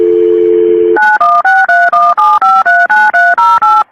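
Telephone touch-tone dialing while a call is transferred to the state police: a steady dial tone, then about eleven quick, loud DTMF beeps in an even rhythm, with no talk over them.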